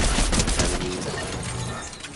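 Rapid Fortnite gunshots on PS5 crackle loudly in the opening second, then fade into a rough, noisy game soundscape with scattered mechanical clatter.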